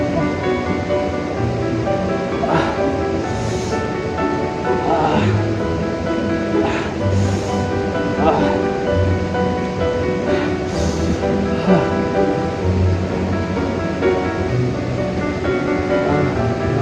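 Continuous rushing of a flowing river beside a ravine, steady and fairly loud, with no break across the whole stretch.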